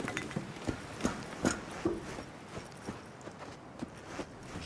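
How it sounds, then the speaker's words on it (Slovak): Footsteps in Cyberpunk 2077 tap along in a quiet, uneven series of sharp clicks, a few louder steps near the start and softer ones trailing off later. "Počujem kroky?"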